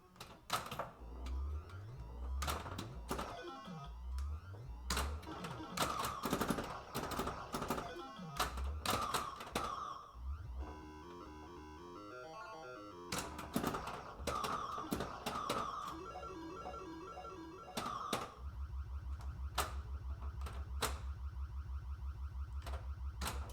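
A Bally Medusa pinball machine in play, with a steady run of sharp mechanical clacks and bangs, electronic tones and sound effects throughout, and a sustained low buzzing drone near the end.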